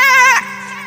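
A goat bleats once at close range, a loud wavering cry that fades into a low steady hum, in a comic village butcher scene.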